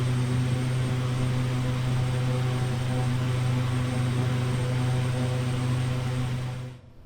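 A Pilatus PC-12 engine drones steadily while climbing in Microsoft Flight Simulator, a loud, even turboprop hum with a strong low tone that holds constant before cutting out abruptly at the end.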